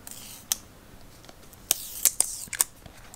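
Tape pulled off a OnePlus 8 Pro sandstone phone case box by its pull tabs, heard as a few sharp, close ripping and crackling bursts with short quiet gaps between them.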